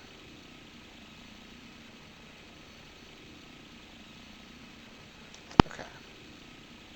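A helicopter's engine and rotor give a steady, even drone throughout, buffeted by wind, with one sharp click near the end.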